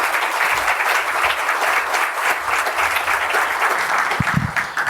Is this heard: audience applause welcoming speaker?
yes